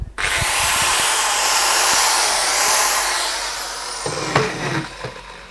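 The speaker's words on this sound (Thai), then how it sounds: "ผมจะลองเอาสว่านครับ ที่เป็นสว่านเสียบปลั๊กเนี่ยมาเทสดู" A corded electric drill whirs at high speed for several seconds, close and loud, then winds down with some handling clatter.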